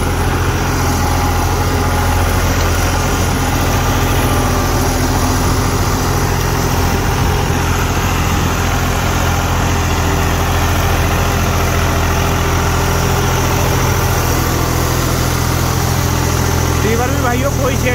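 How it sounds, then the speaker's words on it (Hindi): A New Holland 6510 Excel or John Deere 5405 tractor engine idles steadily and loudly at close range, a constant low rumble with no breaks throughout. "ट्रैक्टर बिल्कुल फ्री चल रहा है"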